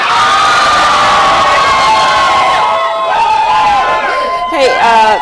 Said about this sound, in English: They're here cheering, they're celebrating